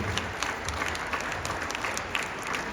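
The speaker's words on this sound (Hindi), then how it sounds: "जोरदार तालियां बजाते रहेंगे बच्चों की हौसला अफजाई के लिए।" Steady audience applause greets a students' yoga performance at a school event, a dense wash of claps holding at moderate level for the whole stretch with no voices over it.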